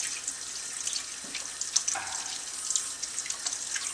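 Tap water runs steadily into a sink while bran is rinsed out of whole red wheat gluten, producing a soft continuous splash with small sloshes and drips nearby.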